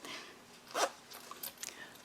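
A zipper pull being worked onto the zipper tape of a clear vinyl project pouch, with a short zipping rasp followed by several small, close clicks.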